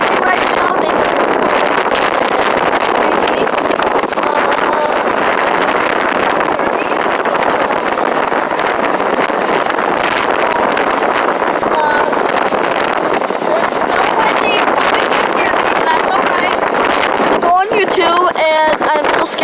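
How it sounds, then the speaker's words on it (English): Strong wind during a tornado warning roars steadily across the whole stretch, a loud buffeting rush battering the microphone, with faint talk near the end. "It is so windy right now."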